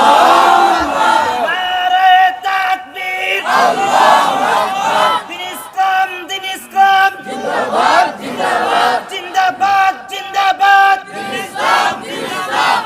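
A large crowd chants the takbir, Allahu Akbar, in loud rhythmic unison, with repeated swelling bursts of many voices answering over several call-and-response rounds.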